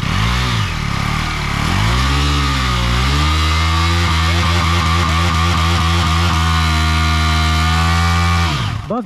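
A KTM Duke 250 motorcycle engine idles loud and close, then revs in a rapid series of short throttle blips with a steady idle underneath, alone without talk.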